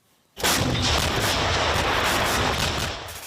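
A loud, sustained roar of heavy gunfire from an M1989 Koksan self-propelled howitzer erupts abruptly after a short silence, with rapid repeated blasts blending into a continuous rumble.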